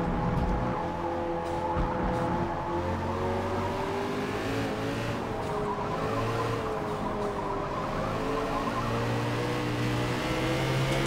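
Race car engine in the Forza Motorsport racing game, droning steadily and loudly at high revs with rising and falling pitch across gear changes, heard alone without talk.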